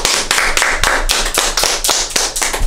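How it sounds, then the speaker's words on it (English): A small audience claps in a quick, uneven burst for the ladies, sharp close hand slaps repeating for about three seconds with no talking over them. "we got to give you a round of applause"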